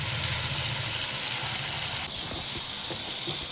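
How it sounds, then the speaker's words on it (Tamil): Tomato chutney sautéing in hot oil in a pan makes a steady, loud sizzle and hiss, with a faint low bubbling underneath. The hiss drops slightly partway through. "இந்த எண்ணெய் கூடவே ஒரு 2 நிமிஷம் வதக்கிடுங்க, பச்சை வாசனை போகிற வரைக்கும்."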